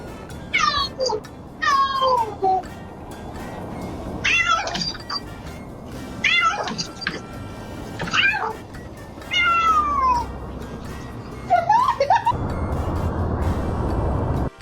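A small domestic cat meows repeatedly in short, rising and falling calls, about seven distinct meows spread evenly across the stretch, close and fairly loud over a steady background hum.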